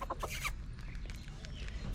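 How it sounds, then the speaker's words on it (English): Chickens cluck in a short burst of calls near the start, then softer scattered clucks continue over a steady low background rumble. "Chickens and roosters."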